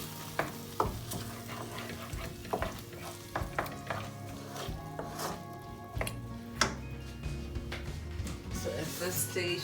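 Drained borlotti beans being stirred in a hot pan, with soft sizzling and scraping spoon strokes and occasional clinks against the metal, close and steady while a person talks over the cooking.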